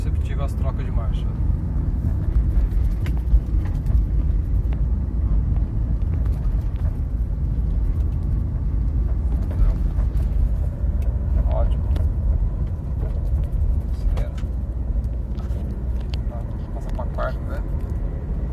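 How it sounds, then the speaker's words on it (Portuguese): A Chevrolet Meriva with an Easytronic automated gearbox, under repair, drives along with a steady low engine and road hum inside the cabin, its gear changes barely noticeable, while a person talks throughout. "A terceira, totalmente imperceptível as trocas de marcha."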